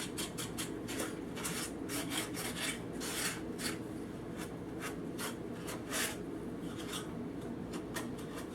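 Excess wax is rubbed off a painted, distressed wooden type case, heard as a close, continuous rhythm of quick scratchy strokes that go on steadily throughout.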